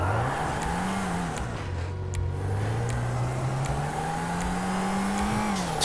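An old car engine in a video game revs and accelerates toward top speed, a loud, steady droning roar whose pitch climbs and dips and then rises steadily, with no talking.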